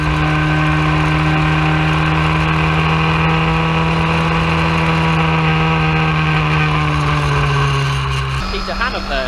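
Historic Formula Ford racing cars at the Brands Hatch circuit: a loud, close, sustained engine note holding a steady pitch, then dropping sharply near the end as a car passes, with commentary running over it.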